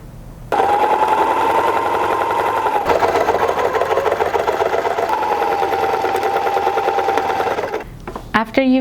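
A sewing machine stitching fabric for a vintage 1940s hood, a loud close steady whirring run with one brief pause midway, ending with a few knocks and soft speech.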